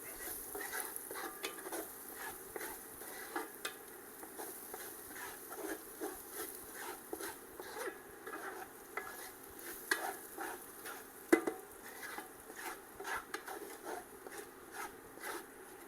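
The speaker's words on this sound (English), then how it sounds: "I'm going to add some garlic, about a teaspoon of fresh garlic. Saute that around a little bit." Fresh garlic being sautéed in a pan for pork tenderloin with pan gravy, a faint steady sizzle under soft recurring scrapes of stirring, close by and continuing throughout without speech.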